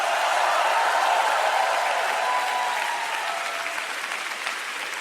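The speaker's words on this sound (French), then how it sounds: "je pensais que vous seriez debout, applaudissant et criant" Applause from a church congregation at a sermon in Changi, Singapore, a dense, steady wall of clapping filling the space and tapering slightly toward the end, with no voices above it.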